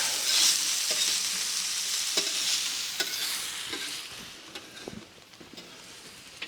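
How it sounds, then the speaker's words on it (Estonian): Potatoes and meat fry in a pan at a winter tent camp, giving a steady, close sizzle with occasional stirring scrapes and clicks throughout. No voices are heard. "kartul praeb."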